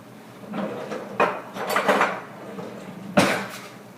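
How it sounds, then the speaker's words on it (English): A metal spatula scrapes and clanks against a skillet while breaking up a Kaiserschmarrn pancake, a few irregular close scrapes and knocks with a sharp clatter near the end. "So I'm going to break this up now a little bit with my spatula"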